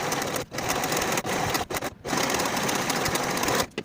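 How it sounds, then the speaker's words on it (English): A sewing machine stitching fabric seams, a loud, close, continuous whirring run cut by several brief stops and restarts. "Sew the shoulder seams with a 5/8 inch seam allowance and press the seams open"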